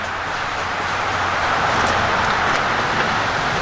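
Highway traffic rushing overhead, heard from a small tunnel beneath the road on the Appalachian Trail: a continuous, loud broadband roar with no breaks, swelling slightly as vehicles pass above.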